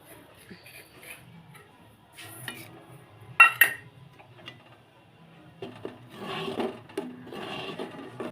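A spoon stirs chosi, a milky dish, in a pot, making soft scraping and knocking sounds with a few sharper clinks against the sides. These irregular strokes are close but quiet and grow busier toward the end.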